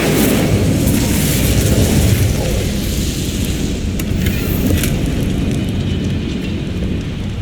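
Incendio fire spell cast in Hogwarts Legacy, a loud, sustained roaring whoosh of flame that crackles densely and fades slightly toward the end.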